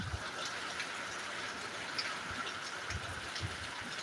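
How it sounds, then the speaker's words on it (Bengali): Steady rain falls during Cyclone Remal in Sankrail, Andul, Howrah district, a constant even hiss with small scattered drops and no talking. "যে বিমান যে ঝড় সেই ঝড়ের সাথে যে বৃষ্টি"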